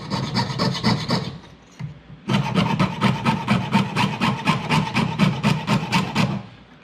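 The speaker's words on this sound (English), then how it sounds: "I'm going to continue the sawing motion and I'm just going to turn the saw blade in that cut" A hand saw cuts wood along a curved line in quick, regular back-and-forth rasping strokes, close and fairly loud. There is a short pause partway through, then the strokes resume steadily, with no talking.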